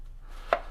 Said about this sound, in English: I am gonna slice, now I'm gonna slice the end off